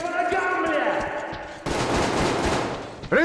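Gunfire in the video game Metro Exodus: a sustained, rapid burst of automatic shots rattles loud and close, following a tonal passage with a brief voice-like sound.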